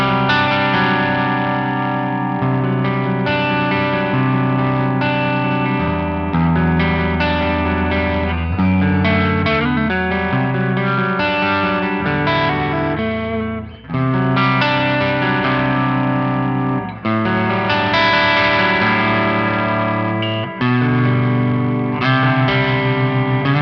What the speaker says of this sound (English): I'm playing through the Quad Cortex using a Kraken preset that I've made.